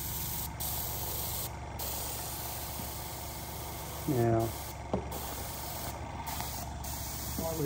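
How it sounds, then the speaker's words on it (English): An airbrush sprays weathering paint over model railway rails and sleepers, giving a steady close hiss with a few brief breaks, while a person speaks briefly partway through. "We've just finished doing the airbrushing of the rails and the sleepers"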